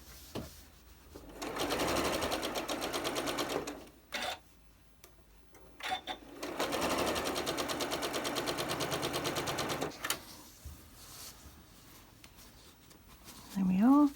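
A home sewing machine stitches a seam on an Arrows quilt block, running in two steady whirring bursts of a few seconds each with a pause between, close up, followed by quieter handling noise and a brief rising tone at the end.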